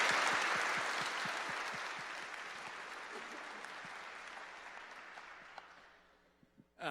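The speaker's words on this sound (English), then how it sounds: "Please give her a big round of applause." An audience gives a woman a big round of applause: a thick wash of clapping that starts loud, gradually thins and fades over several seconds, with a few last scattered claps near the end.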